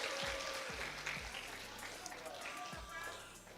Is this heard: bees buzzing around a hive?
no